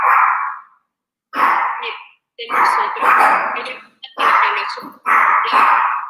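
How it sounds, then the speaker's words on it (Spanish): Dogs bark in repeated loud, close bursts, several quick barks in a row with short gaps between them. "La gente pide que uno calle los perros como si los perros fueran humanos."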